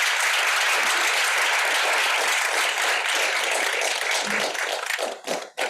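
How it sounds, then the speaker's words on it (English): Audience applause at a kidney cancer research conference session after oral abstract presentations; loud, dense clapping from a sizable crowd holds steady, then tapers off with a few last claps. "Really applaud, a nice applause for Chris and Renee, really."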